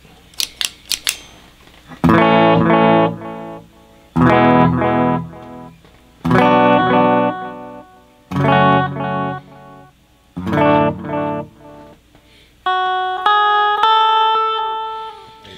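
A Twin Note guitar effects pedal with tap tempo shapes a clean electric guitar into a run of loud, evenly spaced repeated chords, with quick taps at the start and a brighter sustained chord at the end.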